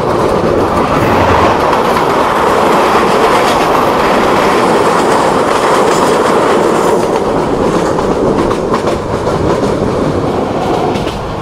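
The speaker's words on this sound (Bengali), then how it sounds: "এই মুহূর্তে আমাদের সাথে একটি ট্রেনের ক্রসিং" A train rumbles past close by at a crossing, a loud, steady roar with rhythmic clatter of wheels on track, no voices.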